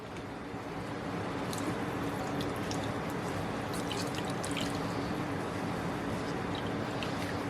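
A steady stream of water draining from thawed frozen spinach close by, continuous and unbroken, with a few faint drips and splashes on top.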